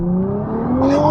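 Nissan GT-R and BMW M5 Competition launching side by side in a drag race, a loud engine roar rising steeply in pitch as the cars accelerate, with a sharp burst of extra noise near the end.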